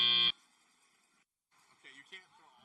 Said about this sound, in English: And that is the buzzer.